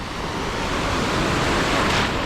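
Waves breaking continuously on a seashore on a cold early-autumn day, a broad steady wash of surf filling the clip, close and fairly loud with a slight swell near the end.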